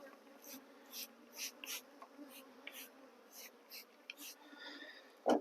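Honeybees in a moved box hum in a steady low drone, with repeated close, brief buzzing passes of individual bees and a sharp knock near the end.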